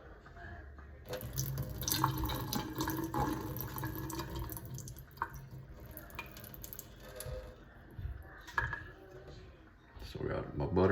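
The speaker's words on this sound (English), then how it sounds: "Pour the water out." Water poured out of a container holding freshly made butter, a continuous splashing trickle with intermittent knocks and handling sounds, up close, while people talk in the background.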